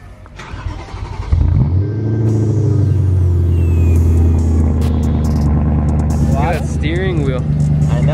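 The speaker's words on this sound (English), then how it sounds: "We gotta get a cold start for the boys" A BMW E46 engine cranks and catches on a cold start, then settles into a loud, steady idle with a deep rumble and a slight whine on top.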